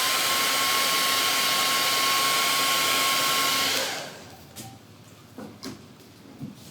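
A hair dryer blasting on stencilled paint of a DIY buffalo plaid sign, a loud steady whooshing drone with a fixed whine for about four seconds, then cutting off and leaving a few soft nearby knocks and handling sounds.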